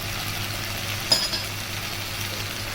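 Chicken frying in a karahi, a steady hiss of sizzling oil with one sharp utensil clink partway through, close and alone without talk.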